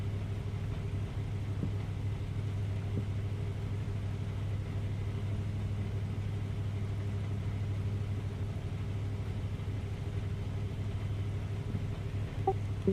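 A car engine in the iRacing sim at Sebring drones as a low, steady hum, faint and unchanging throughout, with no revving swells and no talk.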